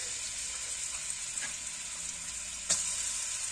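Onions frying in a pan for Nigerian coconut fried rice give a steady, bright sizzle, with a couple of soft stirring clicks and a sharper scrape near the end, and nobody talking.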